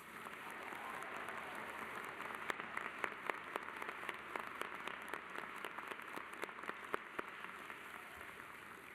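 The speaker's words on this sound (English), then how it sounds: "Let's give them a round of applause." An arena audience at a university commencement ceremony applauds the musicians, a broad, distant roar of clapping with a few sharper nearby claps standing out, steady for the full stretch.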